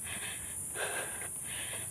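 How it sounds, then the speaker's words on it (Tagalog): Heavy, rapid breathing from a person who has just climbed uphill on foot, close to the microphone, with short repeated breaths and rasping exhales over a steady background hiss. "Hingal lang malala kasi paakyat."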